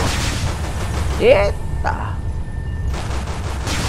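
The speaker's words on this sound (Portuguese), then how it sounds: "Nem vendo quem tá atirando em mim, gente." Laser and cannon fire in the EverSpace space combat video game, a few sharp blasts and whooshing shots over a droning engine hum, with a startled voice exclaiming briefly partway through.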